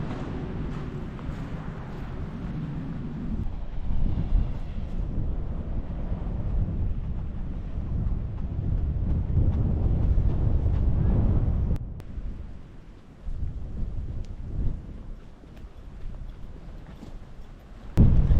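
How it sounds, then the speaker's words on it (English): Strong gusts buffet a microphone outdoors at Dunwich on a very windy day, a heavy low rumble that roars steadily, then drops and rises again, with no voices. "There's going to be a lot of wind noise because it's very windy"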